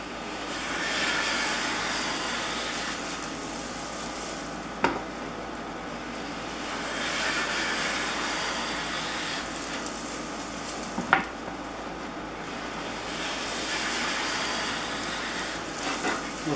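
A board is planed on a custom Stanley No. 33 jointer plane. Repeated long rasping strokes swell and fade every few seconds, with occasional sharp clicks between passes.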